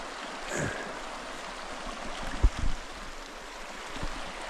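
A mountain stream in the South Chilcotin Mountains rushes as a steady broadband wash, with a few close splashes and sloshes from feet crossing through the water midway.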